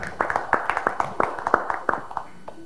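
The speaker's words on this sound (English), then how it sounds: "Let's give yourself a round of applause for a beautiful meal" Sparse hand claps from a dinner audience after a meal, a dozen or so irregular individual claps rather than a full ovation, fairly close, with faint murmuring between them.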